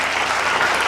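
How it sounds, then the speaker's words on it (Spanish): Loud, dense applause from a church congregation, a brief continuous burst of many hands clapping together. "Vamos a darle ese aplauso al Señor"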